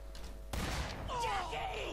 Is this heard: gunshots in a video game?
yes